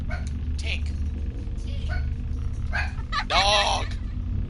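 A dog barks in a FNaF Help Wanted audio challenge, with several short yips and barks under a low hum. One louder bark comes near the end.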